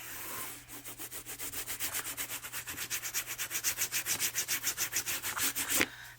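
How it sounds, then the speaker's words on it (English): Paper pieces of a refillable notepad holder being burnished, a steady rapid back-and-forth rubbing in even strokes, close and alone. "I'm going to flip this over and burnish"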